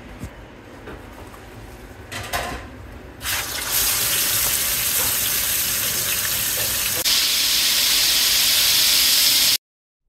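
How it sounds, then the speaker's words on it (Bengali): Spice-marinated roast beef pieces fry in very hot, bubbling oil; a quiet stretch gives way to a loud, steady sizzling hiss that fills the rest until it cuts off abruptly. "আমি খুবই গরম এবং ফুটন্ত তেলের মধ্যে খুবই অল্প সময়ে মাংসগুলোকে ভেজে নিয়েছি"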